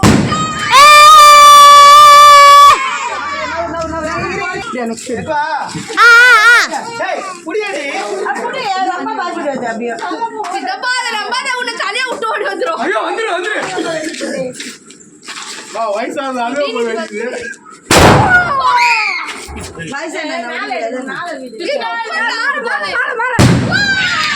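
Firecrackers shoot up and burst in the sky, a shrill whistle at the start, then a few sharp, loud cracks spaced far apart while people chatter and call out throughout.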